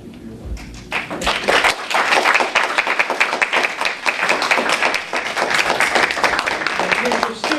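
Sustained applause at a school board of education meeting, many hands clapping loudly and densely for several seconds after a brief lead-in, with voices faintly beneath.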